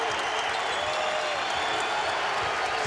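College basketball crowd at Providence versus Creighton on its feet after a dunk, a continuous, loud blend of applause and cheering that holds steady throughout.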